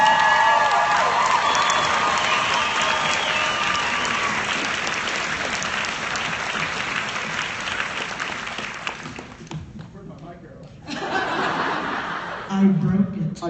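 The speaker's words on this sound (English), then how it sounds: "you should give her a round of applause" A convention panel audience breaks into a long, loud round of applause mixed with cheers and scattered laughter, which fades after about nine seconds before voices and a brief burst of crowd reaction return.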